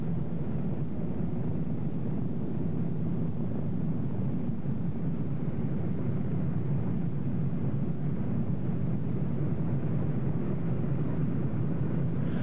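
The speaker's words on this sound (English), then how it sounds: "The B-29 you see here is owned and maintained by the Confederate Air Force and is the only one still flying." Boeing B-29 Superfortress bomber, a World War II four-engine propeller aircraft, drones steadily in flight with a broad low rumble and wind-like roar throughout, continuous and fairly close.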